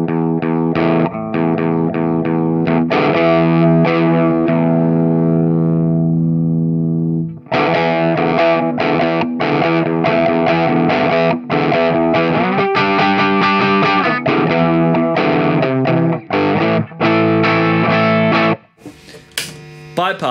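Crunchy, distorted electric guitar played through a Weber Mass 100 reactive attenuator, loud sustained chords giving way to a run of rhythmic strummed hits with no speech.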